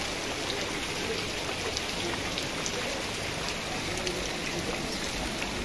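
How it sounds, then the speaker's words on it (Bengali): Heavy torrential rain pours down without a break on flooding streets, a constant dense hiss at moderate level throughout with no voices. "একদম মুষলধারে বৃষ্টি হচ্ছে"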